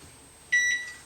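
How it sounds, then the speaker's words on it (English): A short electronic kitchen timer beep, then a second one, high and clear against a quiet room. "That was my timer for heating."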